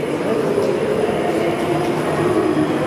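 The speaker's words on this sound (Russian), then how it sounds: "И вот, собственно, поезд останавливается с этой стороны." Steady loud rumble of a Moscow Metro train stopping in a station, a continuous drone with no clear pauses.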